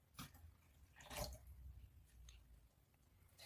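Water poured into a blender jar over eggs and oil for a simple cake batter, a soft, brief splash and trickle heard up close with no talking.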